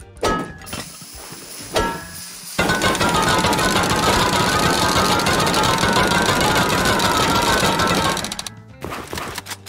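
A jackhammer pounds through a base in a survival video game, its loud, rapid mechanical hammering running continuously for several seconds after a few brief scrapes and knocks, then stopping abruptly.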